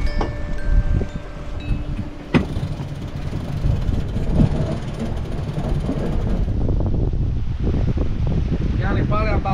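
Wind gusts roar across the microphone on a sailboat running before a rising following breeze at sea, with a constant rushing blow and some water wash, a sharp knock partway through, and faint high creaks near the end.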